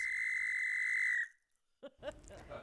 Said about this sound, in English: believes her whistle method is working